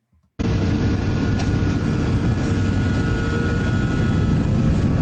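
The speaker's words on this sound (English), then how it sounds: "You heard that the engines revved a little bit, and then afterwards they revved louder." An airliner's jet engines roar loud and steady during the takeoff roll, a broad continuous rush that begins abruptly after a brief quiet moment and holds for several seconds.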